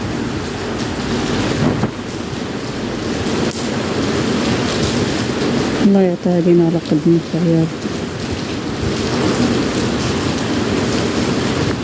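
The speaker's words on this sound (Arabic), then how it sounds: "تبارك الله على الشتا" Heavy rain pours steadily in Salé and Rabat with distant thunder rumbling beneath, a dense continuous wash of drops on surfaces; a person speaks briefly over the downpour midway.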